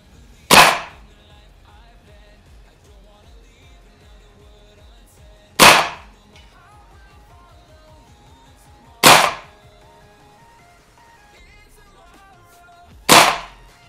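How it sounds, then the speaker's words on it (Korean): A VFC SR25 gas blowback airsoft DMR rifle fires four single shots, each a sharp loud crack with a short tail, spaced several seconds apart in a quiet outdoor setting. "두 번째 사격입니다"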